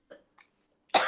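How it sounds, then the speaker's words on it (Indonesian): A person coughs briefly: two soft, short coughs followed by a sharper, louder burst at the end. "Batuk lagi."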